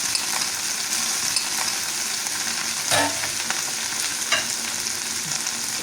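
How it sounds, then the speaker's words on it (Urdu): Okra and onion crackle in hot oil with browned cumin, a loud, dense sizzle right up close, with a few scraping stirs and a sharper clatter partway through. "بھنڈی ڈالی، ساتھ میں ایڈ کر دیں گے پیاز."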